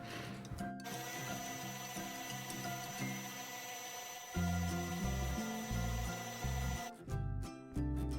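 Electric hand mixer beating egg whites for glossy meringue, a continuous whirring motor that cuts briefly and restarts louder, with faint bowl rattle and no talk.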